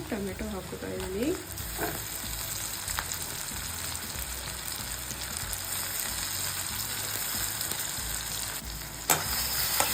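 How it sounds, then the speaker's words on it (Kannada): Tomatoes go into a hot pan for paneer butter masala and fry with a steady, close sizzle, with occasional stirring scrapes and clinks and no talk. "ನೆಕ್ಸ್ಟು ಟೊಮೆಟೊ ಹಾಕ್ಕೋತಾ ಇದ್ದೀನಿ"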